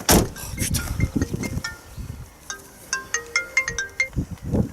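Telephone ringtone from a phone at a farm cooperative office, a repeating electronic melody of short bright tones playing alone at close range before the call is picked up.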